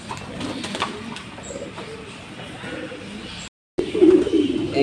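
Low, murmuring coos of pigeons inside a racing pigeon loft in Tangail, steady and close, with a brief dropout before the cooing swells louder and nearer at the end.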